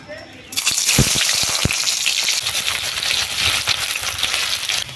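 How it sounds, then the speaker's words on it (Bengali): Chopped onion dropped into hot mustard oil in a pan bursts into a loud, steady sizzle that carries on for several seconds, with a few sharp pops and crackles early on. "তেল গরম হয়ে গেছে তেলের মধ্যে দিয়ে দিচ্ছি পেঁয়াজ কুচি"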